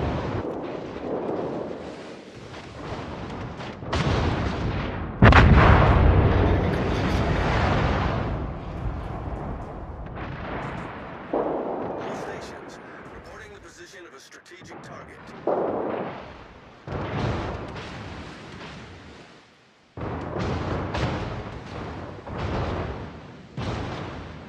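Tank cannon fire in a video game clan battle: heavy booming shots with long rumbling decays recur throughout, some loud and close, others duller, mixed with brief radio-style voice callouts.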